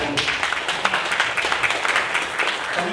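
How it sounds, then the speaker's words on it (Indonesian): A crowd claps at a university graduation ceremony for social and political science students in Surabaya. The applause is continuous, dense and fairly close throughout, with many overlapping hand claps. "Tepuk tangan kita"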